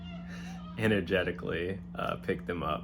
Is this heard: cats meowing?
yes